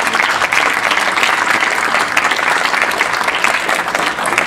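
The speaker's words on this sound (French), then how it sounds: "je vous propose d'abord qu'on applaudisse un grand coup nos intervenants" Audience at a trade fair session applauding the presenters, a loud, dense, continuous burst of clapping from many hands for the whole stretch.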